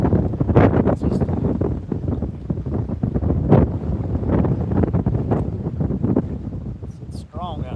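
Strong, cold wind buffets the microphone in steady, rumbling gusts outdoors while bobber fishing, with a few brief faint tones near the end.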